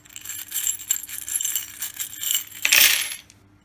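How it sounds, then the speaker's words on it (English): Small metal charms tumble and clatter onto a surface, a rapid jingling cascade ending in a brighter final rattle, close and fairly loud. "I would basically turn the bowl over and cast the charm"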